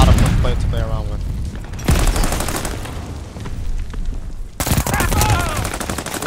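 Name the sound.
machine pistol gunfire in video game Call of Duty Vanguard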